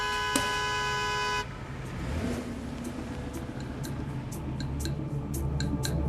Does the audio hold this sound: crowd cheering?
no